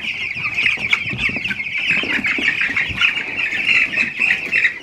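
A flock of meat chickens on a pasture farm clucks and squawks in a dense, continuous chorus at close range as they are loaded up to be moved.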